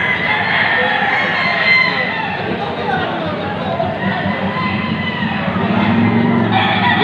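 Several roosters crow over steady clucking from a flock at a chicken market in Padre Garcia, with a busy murmur of people talking in the background.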